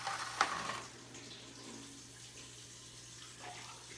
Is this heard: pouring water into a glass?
yes